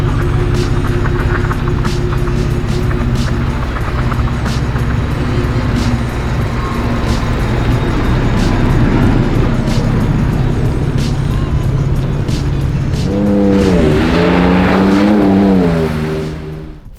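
A modified Ford F-150 Raptor Roush Edition pickup drives with a steady loud engine drone, then revs up sharply near the end before cutting off, with no talk.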